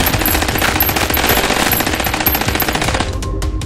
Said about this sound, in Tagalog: Gumanti ng putok.